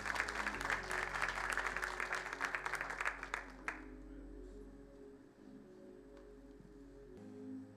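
A church congregation bursts into applause during a sermon, a dense patter of clapping hands that cuts off abruptly midway, leaving quiet room tone with a low musical hum.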